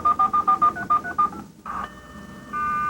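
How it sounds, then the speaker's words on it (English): A computer modem dials a telephone number over the phone line, sending a quick run of about ten crisp, evenly spaced DTMF beeps that give way to steady line tones, all loud and close with no talking. "Now it's starting to dial."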